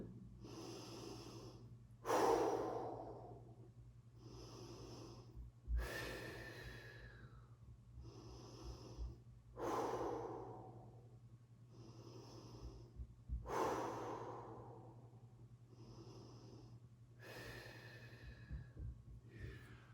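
Slow, deep breaths during a Pilates mat workout, about eight close inhales and exhales with audible airy rushes, faint and unhurried over a low steady hum, no talking.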